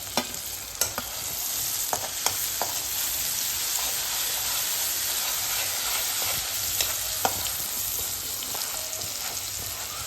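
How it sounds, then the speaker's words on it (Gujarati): Chopped green chillies and garlic fry in hot oil, making a dense, continuous sizzle close by with occasional sharp pops and light stirring taps throughout. "લસણ થઈ જાય છે એટલે હવે લીલા મરચાં નાખીશું સમારેલા"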